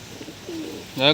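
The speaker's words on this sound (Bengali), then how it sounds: "এই হচ্ছে পায়রাটা দেখুন" A Giribaj pigeon gives a short, close coo that swells near the end of a brief moment, with faint low murmurs before it.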